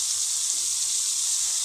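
Water poured steadily into a pan of frying masala gravy for a soya chunk curry, a continuous bright hissing splash with faint sizzling underneath, close and even throughout.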